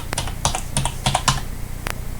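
Someone types on a computer keyboard in a quick burst of crisp, close key clicks, a handful of strokes with brief gaps, then a final tap.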